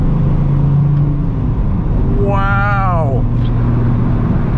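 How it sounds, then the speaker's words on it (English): V10 supercar exhaust heard from inside while driving, a low steady drone that rises in a brief rev sweep, with a person exclaiming over it. "You can hear the exhaust because it's right there."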